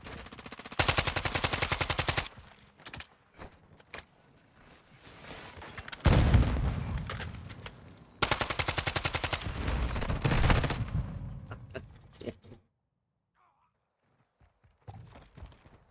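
Automatic AK rifle fire in the Call of Duty video game: loud, rapid bursts of shots, a long volley, a pause, then another sustained burst, followed by quieter scattered game sounds and a near-silent stretch.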